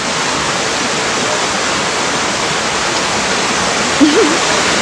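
Steady rushing water of a stream fed by a waterfall near Chiang Mai, Thailand pours continuously, a dense broadband roar, loud and close.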